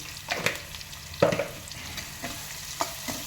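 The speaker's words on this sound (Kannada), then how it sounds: "ಮತ್ತು ಎಲ್ಲ ಹಿಂಗೆ ಮಿಶ್ರಣ ಮಾಡಬೇಕು" Maggi noodles stirred in a pan with a spoon, giving a few distinct scraping strokes over a soft, steady sizzle, close and fairly loud with no talking.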